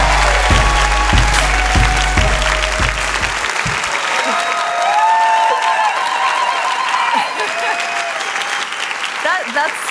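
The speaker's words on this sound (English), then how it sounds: "huge round of applause, please, for Zoe Quinn." An audience at the XOXO Festival in 2015 gives a loud, sustained round of applause and some cheering for Zoe Quinn, with a few bassy thumps early on and scattered crowd voices rising near the end.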